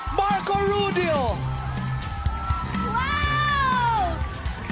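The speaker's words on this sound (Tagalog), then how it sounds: "Wow! Standing ovation!" A large audience at a singing performance cheers, whoops and shouts through a standing ovation, loud and continuous with rising voices, while excited people talk over it.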